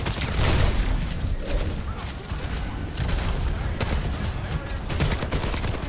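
Rapid gunfire from Overwatch gameplay, bursts of shots crackling steadily throughout amid dense game effects, with a voice speaking faintly underneath.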